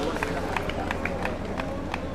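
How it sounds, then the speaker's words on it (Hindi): A village gathering in Barauda, Jind, on Subhash Chandra Bose's birth anniversary greets Satbir Pehlwan with applause, a crowd's dense clapping and murmur running steadily under someone speaking over a loudspeaker. "जोरदार तालियों से स्वागत कीजिए।"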